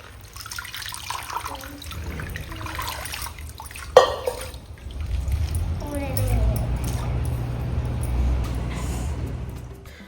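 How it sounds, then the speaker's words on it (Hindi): Tap water runs steadily over fresh spinach leaves in a home kitchen sink, a continuous splashing rush with a sharp clatter partway through and a low hum underneath, with a voice talking over it. "तो पालक को धो लिया"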